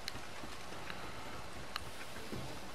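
Horse hooves in Red Dead Redemption 2 clop faintly and unevenly on a hard surface, a few soft distant strikes over a quiet ambient background.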